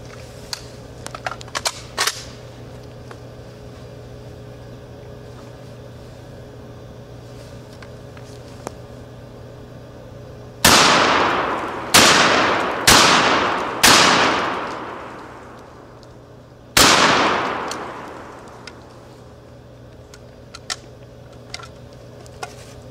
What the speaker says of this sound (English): I'll be shooting two magazines out here today.